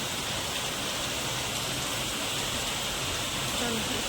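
Continuous, even hiss of rain falling steadily onto a pond, a dense wash of sound with no distinct drops or voices standing out.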